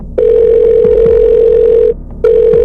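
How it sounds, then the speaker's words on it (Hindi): A telephone call tone sound effect: a loud, steady electronic beep lasting nearly two seconds, a short gap, then the tone starting again, alone with no talk. "फिर टिया को कॉल किया"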